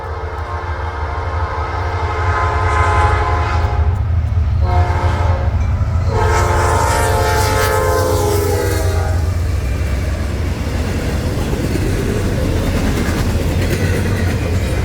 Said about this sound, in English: We chased the train south a little bit more before finally catching back up to it.